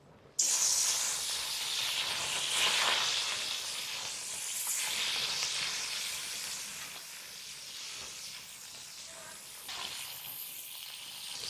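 Fish dropped into hot oil in a heated wok hisses sharply all at once, then settles into a loud, steady sizzle and spatter that fades slightly over time. Nobody speaks.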